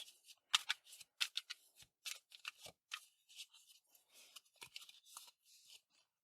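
Tarot cards are shuffled up close in quick, crisp riffling bursts, a steady run of dry papery flicks and snaps with no talking.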